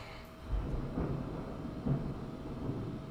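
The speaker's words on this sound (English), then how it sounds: "That's thunder." Low, rumbling thunder rolls in the distance, with a couple of deeper swells over a steady background of wind and rain-like hiss.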